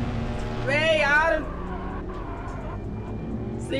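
Car engine in the CarX Street racing game roaring and rising in pitch as the car speeds off, sweeping up briefly then settling into a steady drone, with someone talking over it.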